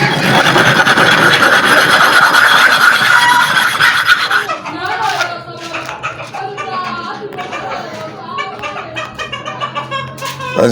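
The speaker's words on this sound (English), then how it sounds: "can see it has started the sharpening by this side" A blade worked on a super-hard manual sharpening stone makes a loud, close, continuous rasping grind for about five seconds. After that come quieter, irregular scraping strokes mixed with someone speaking.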